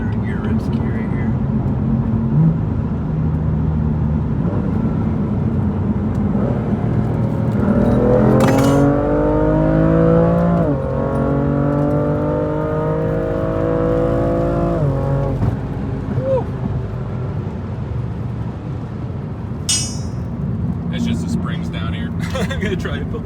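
A BMW M3 in Verde Mantis green, fitted with modifications, revs hard as it accelerates through the gears on a road. It makes a loud, rising engine note with clear upshifts, heard beneath an occupant's talk inside the car.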